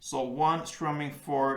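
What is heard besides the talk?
No distinct noise like a dog, phone or traffic.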